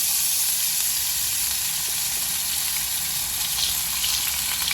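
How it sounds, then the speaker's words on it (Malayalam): Fennel seeds sizzle in hot oil left from frying jackfruit seeds, a steady, close, bright crackling hiss that holds evenly throughout with no voices. "ചക്കക്കുരു വറുത്ത് കോരി എണ്ണയിൽ തന്നെ നമുക്ക് കുറച്ച് ജീരകം ഇട്ട് കൊടുക്കാം വലിയ ജീരകമാണ് പെരുംജീരകം"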